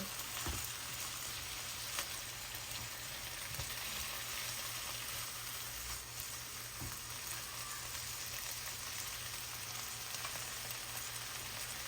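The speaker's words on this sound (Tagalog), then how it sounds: "Iprito-prito ko na." Steady sizzling of garlic and onion frying in a pan, a constant hiss with faint occasional clinks, no one speaking.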